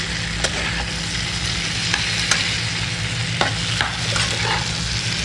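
Boiled potatoes being stirred and fried in a pan for a potato dum curry, a steady close sizzle with intermittent scraping strokes of the spatula throughout, no voices.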